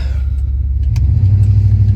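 A 1997 Dodge Ram truck engine rumbling loudly while driving, a deep steady low-pitched drone that swells slightly as it pulls, with faint clicks above.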